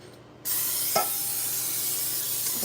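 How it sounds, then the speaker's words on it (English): Cooking spray hisses steadily from an aerosol can onto baking pans in a home kitchen, a sustained broadband spray that starts abruptly and runs for over two seconds, with a brief click or tap near the start. "I'm going to use a little bit more of my cooking spray. And I'm still going to spray the pans."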